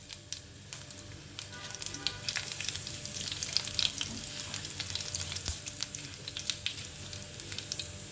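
Half a spoon of mustard seeds and dried red chillies fry in hot oil, giving a quiet, continuous sizzle dotted with rapid small pops and crackles.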